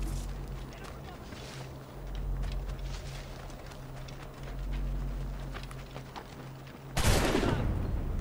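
Gunfire from the video game Assassin's Creed IV Black Flag, a faint scattered fusillade of shots behind a low game rumble, ending in a sharper, louder burst near the end.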